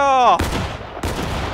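A loud musket volley from soldiers in the Civil War game War of Rights, a massed crack right after a shouted voice, then a second ragged burst of shots echoing on.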